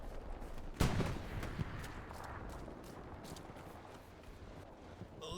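Gunfire in a multiplayer video game battle: one sharp, close shot stands out, followed by a fainter second shot and scattered distant firing over a low background rumble.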